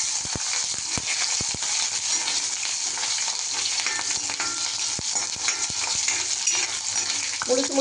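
Shallots, whole tomatoes and curry leaves sauté in a pan for a tamarind curry with okra, a steady sizzle broken by sharp clicks of a spoon scraping and stirring, close and alone with no talk.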